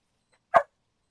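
One dog gives a single short, sharp bark at close range, and the clip is otherwise silent. The dog is heard during a Phasmophobia livestream.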